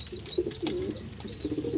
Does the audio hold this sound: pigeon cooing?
yes